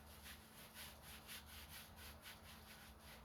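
Rhythmic scrubbing of pitted aluminum wheel rims, a quiet back-and-forth rubbing stroke repeated steadily and close up, with no talking.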